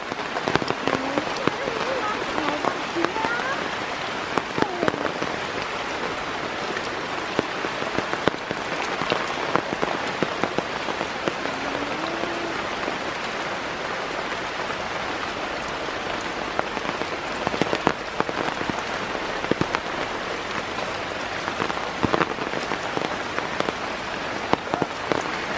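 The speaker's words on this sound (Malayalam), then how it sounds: "ഇപ്പോൾ ശരിക്കൊരു അടിപൊളി മഴക്കാലം തന്നെ ആയി" Heavy monsoon rain in Kerala pours onto surfaces in a dense, continuous hiss with scattered louder drips and splashes, steady and close for the whole stretch.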